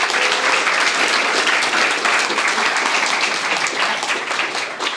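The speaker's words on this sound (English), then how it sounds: "Big round of applause for our last team." A pitch-night audience at a startup weekend applauds a team, steady dense clapping from many hands filling the room and tapering slightly near the end.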